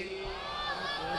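Crowd answering a takbir call: a gathering of many voices shouting together in a sustained, tonal roar, loud and close, with no single speaker standing out.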